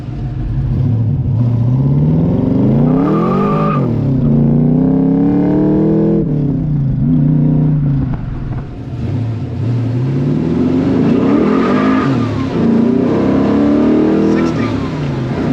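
A 1969 Chevrolet Camaro with a 6.0L LS V8 accelerating hard from inside, loud rising engine roars with revs climbing through gears, dropping and surging again, someone talking over parts of it.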